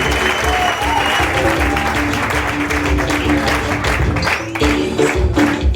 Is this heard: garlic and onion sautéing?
no